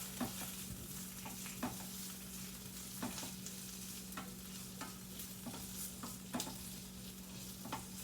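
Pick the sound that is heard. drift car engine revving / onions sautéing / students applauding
onions sautéing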